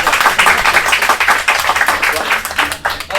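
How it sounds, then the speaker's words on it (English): Audience applause for a speaker being introduced at a real estate personal branding talk, dense clapping throughout that partly blends with voices. "Now I get a round of applause."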